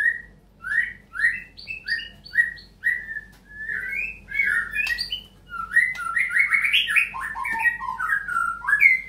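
A magpie robin sings loudly and continuously, a rapid run of varied whistles, chirps and trills with no pauses for long.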